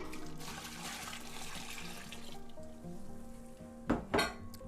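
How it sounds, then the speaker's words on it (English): Water pours into a stock pot holding blueberry pie filling with a continuous rushing splash, followed by a couple of sharp knocks of the pot near the end. "I'm gonna go ahead and put this into the stock pot"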